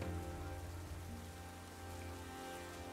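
Steady rain pours in a Pokémon Scarlet & Violet ranked doubles battle, a dense, even hiss of falling water that holds at the same loudness throughout with no voices over it.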